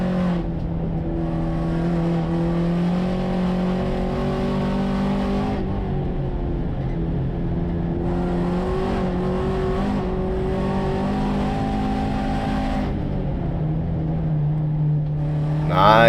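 A VW Jetta GLI super touring car with a turbocharged 2-liter engine running about 26 psi of boost, racing hard at Thunder Hill Raceway: loud, sustained engine drone rising through the revs with abrupt gear changes, up close.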